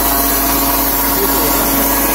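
A mobile sawmill running off a rented generator cuts through wood in a steady, loud, unbroken roar of blade and engine that fills the whole stretch without pause.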